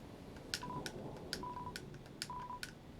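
Telephone tones from the video game Deltarune: a quiet series of touch-tone beeps in three short clusters, each with a sharp click, faint and clear with no voices.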